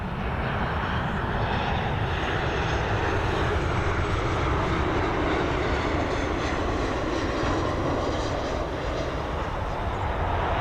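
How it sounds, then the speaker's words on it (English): Transavia airliner at Dublin Airport, a steady, loud broadband engine roar that holds evenly throughout with no talk. "Here we've got this Transavia."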